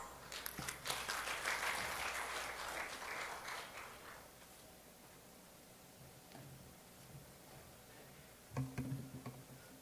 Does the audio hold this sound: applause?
yes